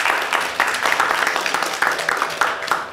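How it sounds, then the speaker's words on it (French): An audience claps for a participant at a father-themed event, a sustained, moderately loud ripple of many hands with faint voices beneath. "On peut applaudir Dalla"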